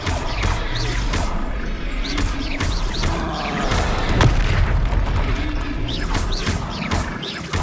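Confringo blasting-spell explosions from the Hogwarts Legacy video game hit repeatedly in a busy combat scene, with loud booms and crashes over continuous rumbling.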